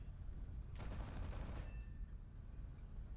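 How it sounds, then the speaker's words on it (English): Anti-aircraft fire in a video game battle: a dense burst of rapid gunfire lasting under a second, fairly distant, over a steady low rumble of ambient battle noise. "I see the AA going off."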